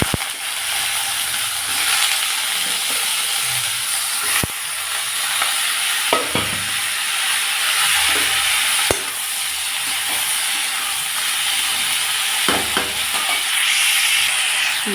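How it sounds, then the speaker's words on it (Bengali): Fish fry in mustard oil in a wok, giving a steady, close hiss and sizzle throughout, broken by occasional sharp scrapes and clinks as the pieces are stirred. "এখন কুয়াশ ভাজার জন্য আমি দিয়ে দিচ্ছি কড়াইতে সরষের তেল।"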